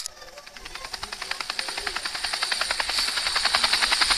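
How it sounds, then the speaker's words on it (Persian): A helicopter arrives in a Minecraft game, its rotor making a fast, steady chopping pulse that grows louder and closer over a few seconds, with a bright whine running alongside it. "هلیکوپتر اومد، بریم"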